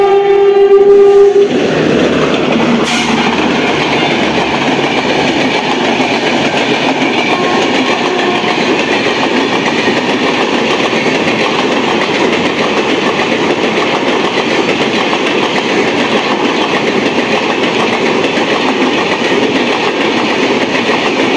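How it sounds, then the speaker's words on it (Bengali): The Bikaner–Sealdah Duronto Express roars past at close range, opening with a brief horn blast and then a loud, sustained rumble and wheel clatter that continues throughout. "বিকানের শিয়ালদা দুরন্ত এক্সপ্রেস।"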